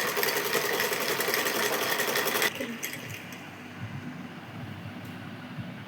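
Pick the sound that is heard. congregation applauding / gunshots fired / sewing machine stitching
sewing machine stitching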